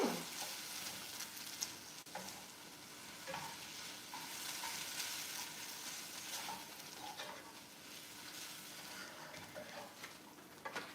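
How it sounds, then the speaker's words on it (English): Onions and peach preserve caramelize in a pan, a steady close sizzle with frequent stirring scrapes and light clinks throughout, with no talking. "I'm just caramelizing the onions and some of the peach preserve."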